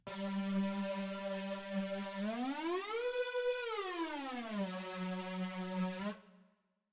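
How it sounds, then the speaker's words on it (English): A synthesized siren built from a detuned saw wave drenched in reverb holds a steady buzzing tone, glides up to a peak and back down, then settles before cutting off into a short reverb tail. "So reverb plus saw plus detune equals siren"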